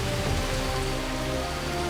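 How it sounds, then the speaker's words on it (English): Rain falls steadily in a prehistoric wilderness setting, a dense continuous patter of drops on surfaces with an even, close hiss and no voices. "The rain is the ultimate test."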